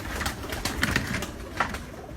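A pigeon from an English-lineage breeder's loft coos in a few soft, repeated throaty phrases, close by and fairly quiet, with no talk over it.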